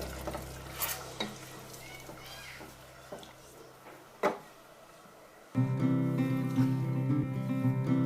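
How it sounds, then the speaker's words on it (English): Scraping and stirring of rice and vegetables pulao in a pot, a few soft clinks and scrapes, then a louder steady simmering sizzle takes over in the second half. "I'll just give this a nice stir so that the vegetables and rice can get mixed up properly."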